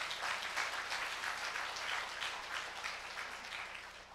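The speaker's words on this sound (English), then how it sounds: "Let us give a round of applause for our general." Audience applause for a general at a forum on Korea, a room full of clapping heard somewhat distant and moderately loud, pulsing steadily and tapering slightly toward the end.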